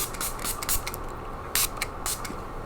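A few quick spritzes from a makeup setting spray bottle, short hissing bursts close by over a steady background hiss.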